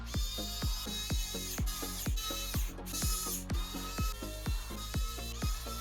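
Ratcheting screwdriver driving motherboard screws, a quick run of clicking pawl strokes in an even rhythm, close and fairly quiet against a low background hum.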